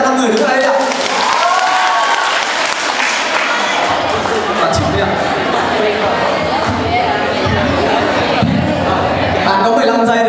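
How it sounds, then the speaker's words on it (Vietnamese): A crowd of new students at a foreign languages faculty welcome event applauds five people standing at the front, a dense, continuous round of clapping mixed with chatter and an amplified voice speaking over it. "Thì các bạn cho một tràng vỗ tay cho 5 người đứng ở đây ạ."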